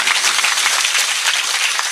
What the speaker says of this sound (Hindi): इन्हें जोरदार ताली बजा करके साधुवाद दो।